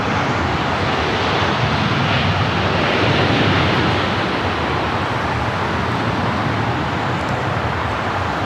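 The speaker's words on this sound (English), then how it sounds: "That American 777 now pushing it back" An American Airlines Boeing 777 bound for London Heathrow is pushed back at LAX, heard as a steady broadband roar of jet engines and airport noise that holds at a constant level throughout, with no talk.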